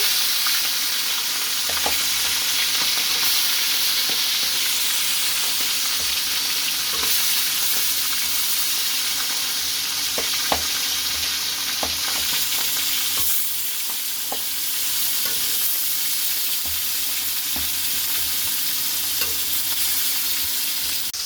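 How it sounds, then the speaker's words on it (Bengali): Loud, steady sizzle of hilsa fish frying in hot oil with chopped onion, with occasional faint clicks of stirring, no voices. "মাছগুলোকে এবার আমি ভেজে নেবো"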